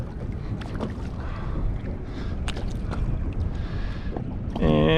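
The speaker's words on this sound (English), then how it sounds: "it's getting a little windier out here" Wind gusts outdoors beside a boat on the water, a continuous rushing buffet over the microphone, with a few brief knocks and a voice in the background.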